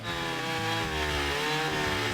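A chainsaw carving a large wooden sculpture in Ibirapuera park, a steady loud droning engine whine that holds without pause throughout.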